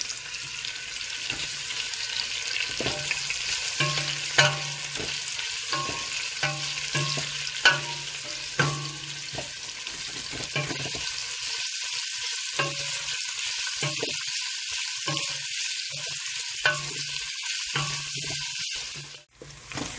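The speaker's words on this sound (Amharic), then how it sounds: "ነጭ ሽንኩርት ነው የሚጠብሰው" Garlic sizzles and fries in a pan for Ethiopian gomen, with steady crackling and a spoon or spatula scraping and stirring now and then, close and continuous without talk.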